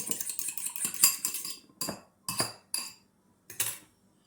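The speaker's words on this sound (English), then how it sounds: "we're going to lightly beat the egg" A utensil clinks rapidly against a bowl while an egg is lightly beaten, a quick flurry of taps followed by a few separate, slower strikes, close and clear with no talking.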